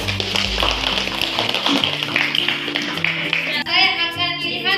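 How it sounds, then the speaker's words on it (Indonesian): A classroom of students gives dense, continuous applause for several seconds before it stops and a voice begins talking. "kita berikan aplaus dulu"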